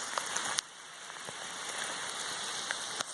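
Light rain patters steadily on a forest hiking trail, soft and diffuse with occasional nearer drips and taps against a quiet hiss.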